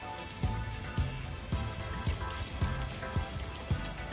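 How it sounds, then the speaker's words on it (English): Rain falls outside a home, with a steady wet hiss broken by heavier drops that thud at a fairly regular pace, about twice a second. No one speaks. "Rain is here."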